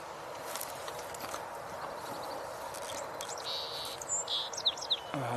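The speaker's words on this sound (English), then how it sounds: "Hear the yellow-throated vireo again." A yellow-throated vireo sings a few short, clear phrases outdoors over a steady hiss of wind or rustling. The song is fairly faint and distant, with brief bumps and movement noise near the end.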